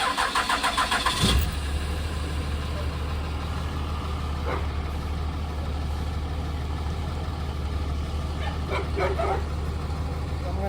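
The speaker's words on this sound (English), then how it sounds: "clear the codes and we're gonna fire the truck." A 2006 Dodge Ram 2500 with the 5.9 engine cranks in a quick rapid churn, then catches and settles into a steady low idle nearby, with a few faint knocks over the running engine.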